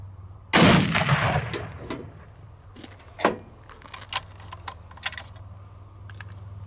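A single close, sharp report from a .300 Win Mag Accuracy International Mk13 sniper rifle cracks out and decays into a long echoing tail. Scattered metallic clicks and clinks of handling follow.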